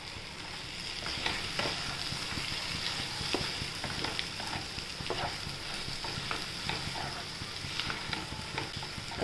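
Potatoes dropped into hot oil with well-roasted spices for a potato gravy bhaji sizzle steadily and loudly, with stirring scrapes and clinks throughout, close up and without voices.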